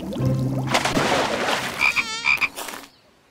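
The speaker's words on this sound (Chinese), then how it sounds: "哦，原来是小青蛙呀" A little cartoon frog croaks in a close, clear call with tonal notes. A rapid ribbed, pulsing croak comes in the middle, and then the call stops abruptly.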